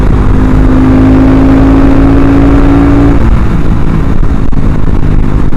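Loud, close engine drone of a Husky 701 motorcycle under way, holding a steady revving tone before easing and shifting, with wind roar throughout.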